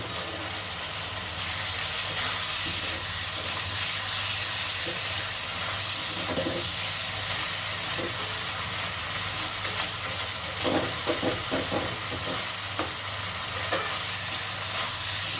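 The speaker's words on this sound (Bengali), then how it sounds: "বেশ কয়েক সেকেন্ড একটু নাড়াচাড়া করে নিচ্ছি" Prawn masala frying in oil with sugar added, stirred for several seconds: a steady broadband sizzle runs throughout, with scattered scraping clicks from the spoon growing busier toward the end.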